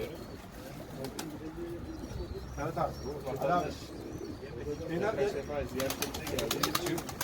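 Pigeons coo in soft, repeated throaty rolls close by, while people talk intermittently in Turkish alongside them.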